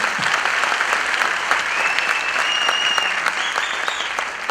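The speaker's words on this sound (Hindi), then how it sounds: "एक बार जोरदार तालियां आप बजाएं" A studio audience at a music launch event for the film Jai Bheem claps loudly and steadily, a dense, continuous wash of applause that holds at an even level from start to finish.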